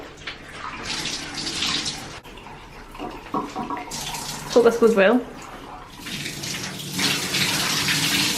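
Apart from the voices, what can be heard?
water dripping from wrung-out wet dyed clothes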